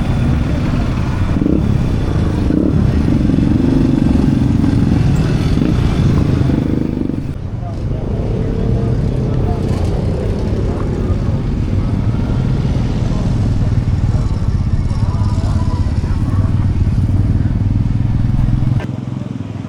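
An IT400 motorcycle engine runs steadily and loud at a swap meet, a continuous rough drone with a brief dip midway, with people talking over it throughout.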